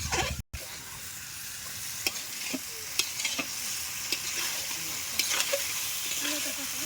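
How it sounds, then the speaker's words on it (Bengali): Meat frying in spiced oil with coriander leaves, stirred steadily in a pot: a constant close sizzle broken by repeated scraping strokes and clacks of the spoon against the pan. "ভালো করে নাড়ছি এটাকে, যাতে নিচে না লেগে যায়, আর সুন্দরভাবে মাংসটা যাতে কষে"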